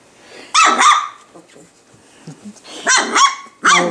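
Three-week-old puppies bark and yip in several short, loud bursts, a couple close together near the start and another cluster toward the end, with quieter whimpers between them.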